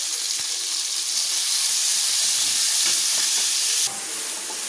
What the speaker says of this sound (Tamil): வெங்காயம் லைட்டாக சவக்கட்டும்.